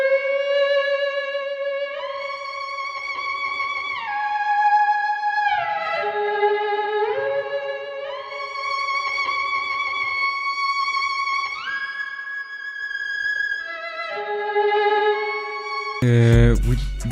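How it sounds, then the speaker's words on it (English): A sad, dark melody from a Gypsy romantic violin VST, a lone bowed line of long held notes with gliding pitch slides between them, steady and close. A brief burst of another sound cuts in at the very end. "I prefer to use the Gypsy romantic violin."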